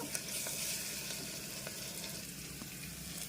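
Ginger garlic paste frying in a pan gives a steady, fairly loud crackling sizzle throughout, with faint stirring scrapes underneath and no voices.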